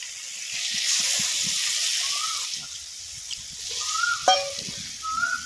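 A little water goes into ginger and cumin paste in a hot pan, giving a steady sizzle with intermittent stirring scrapes and a few sharp clinks toward the end.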